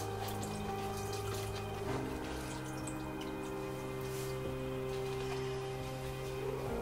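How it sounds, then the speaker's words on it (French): Cleaned filters rinsed under a cold running tap, a steady faint stream of water with a low pump-like hum beneath it, continuous and without talk. "on vient rincer dans l'eau froide"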